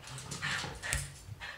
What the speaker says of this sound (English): There are rabbits in the yard. And the dog is going crazy.